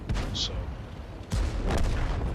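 A World of Tanks cannon shot fired at a T28 HTC's weak spot lands as a sharp, loud boom midway through, after a rumbling battlefield bed, with game noise continuing around it.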